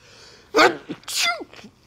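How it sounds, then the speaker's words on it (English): A single sharp sneeze with a brief sharp inhale beforehand, close and loud, followed by a short exhaled sound. "You gotta when you gotta sneeze, you gotta sneeze."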